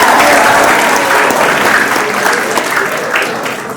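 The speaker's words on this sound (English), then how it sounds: "Come on, that deserves a round of applause." Loud, sustained applause from an audience at a youth football club awards night, dense clapping close by that slowly thins out, with a voice faintly audible underneath.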